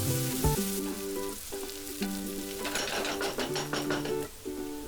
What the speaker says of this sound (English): Then add 2 green chilies and fry it until the onion is nice and light brown.